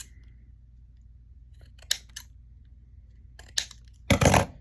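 Parts of a homemade model rocket trimmed with scissors: a few quiet separate snips and clicks, then a louder rough cutting burst at the end, in an otherwise quiet room.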